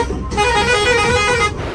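The horn of a bus on the way to a wedding blares as one loud, sustained honk of over a second, close and harsh, over low engine rumble.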